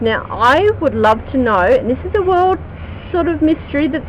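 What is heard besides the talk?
None of the usual background noises is heard.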